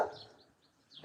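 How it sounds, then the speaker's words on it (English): Dogs bark nearby, one loud bark at the start and another at the end, separated by a near-silent gap. "Stop the barking."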